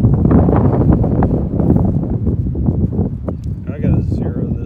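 Outdoor wind buffets the microphone at a shooting range on a suppressor demo day, a loud, continuous low rumble with gusty swells and no speech.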